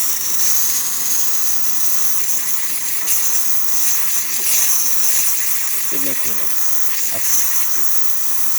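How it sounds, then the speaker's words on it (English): A Delonghi Magnifica espresso machine's steam wand hisses loudly and steadily, a broad close-up rush of steam, while someone speaks briefly over it. "nice steam coming out of the machine"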